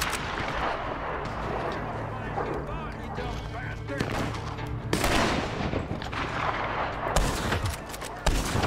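Gunfight in the video game Red Dead Online: repeated loud gunshots and heavy blasts in uneven bursts over constant battle ambience, with players talking throughout.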